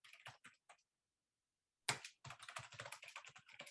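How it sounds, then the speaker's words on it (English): Rapid clicking of a computer keyboard as code is typed for a CFEngine module, a short burst, then a pause of about a second, then a longer steady run of keystrokes, close and fairly quiet. "So I'm going to do a lot of typing."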